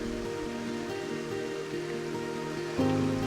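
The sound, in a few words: moss waterfall in Sibolangit forest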